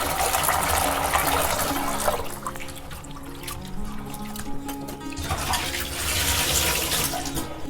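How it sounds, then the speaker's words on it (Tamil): Cleaned prawns being rinsed in water, with steady splashing and running-tap flow that swells, eases off in the middle, then surges again, close and fairly loud with no talking. "இன்னொரு தடவையும் அலசி அள்ளிடலாம்"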